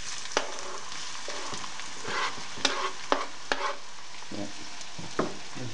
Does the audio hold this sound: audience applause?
no